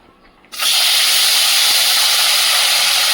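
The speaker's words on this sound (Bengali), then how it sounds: "তেলটা গরম হয়ে গেছে, আর এখানে মাছটা লবণ হলুদ মিশিয়ে রেখেছিলাম কিছুক্ষণ। মাছটা ভেজে নেব।" Fish marinated in salt and turmeric dropped into hot mustard oil: after half a second of near quiet, a sudden loud, dense hiss of frying starts and holds steady and close to the end.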